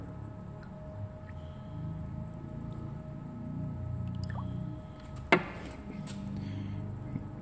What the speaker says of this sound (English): now what I'm gonna do is I gotta pour half of this off